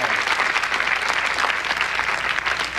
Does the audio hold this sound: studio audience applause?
yes